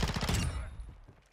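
Gunfire in Call of Duty Modern Warfare 2 search and destroy, a quick loud burst of rapid shots that trails off into a fading echo.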